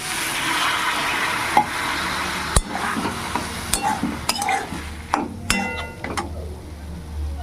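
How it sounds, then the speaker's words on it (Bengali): Mushrooms frying in a pan while being stirred, a soft steady sizzle broken by sharp clinks and scrapes of a utensil against the pan, close and moderately loud, with no talking. "মাশরুমটাকে খুব সুন্দর করে একটু ভাজা ভাজা করে নিয়েছি এবার সামান্য একটু পানি দিয়ে দেবো"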